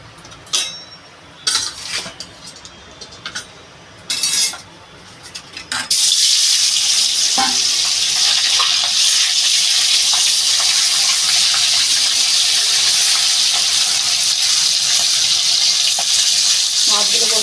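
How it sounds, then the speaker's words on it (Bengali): Rita fish dropped into hot oil: a few pan and utensil clatters, then a sudden loud burst of sizzling that holds as a strong, steady, close hiss until the end. "তেলটা আমার গরম হয়ে গেছে মাছগুলো এবার আমি দিয়ে দেবো"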